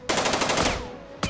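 A burst of automatic gunfire in the tactical game Jagged Alliance 2, with rapid evenly spaced shots hammering loudly for under a second, a short ringing tail, then a single sharp report at the end.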